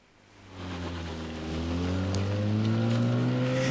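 Race car engines roar and climb steadily in pitch as the cars accelerate, growing louder from a moderate start into a sustained, close, high-revving drone.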